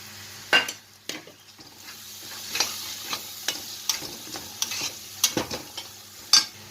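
Turmeric and masala hit a hot pan of chicken keema, sizzling steadily while a spoon scrapes and stirs in irregular clanking strokes, close and fairly loud with no talking.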